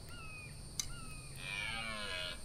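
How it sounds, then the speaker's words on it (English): Bird calls in a game setting, a few short whistled tones with a brief crow-like caw, fairly faint over a low background hum and steady high-pitched tone. "There's actually a birdie bird."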